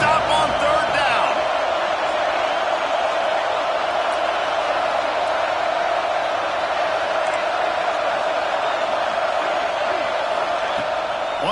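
A stadium crowd at a college football game between Auburn and Tennessee roars steadily and loudly without a break, a dense sustained cheer with no distinct individual sounds standing out.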